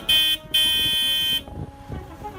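Two loud, blaring car horn honks, one short and one longer, followed by quiet background noise.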